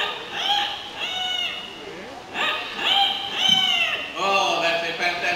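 A talking bird at Jurong Bird Park mimics a rooster's crow in a run of loud, close, drawn-out calls that rise and fall, with short pauses between bursts.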